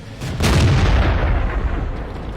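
A JgPanther tank destroyer's long 88 gun fires in a World War II tank video game, one deep booming shot with a heavy rumbling tail, loud and close, no voices.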